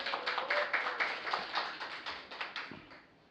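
Audience applause for debate teams at a public speaking competition match, a brief burst of many hands clapping that fades out.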